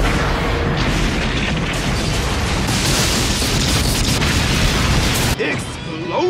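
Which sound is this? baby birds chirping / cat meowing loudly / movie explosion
movie explosion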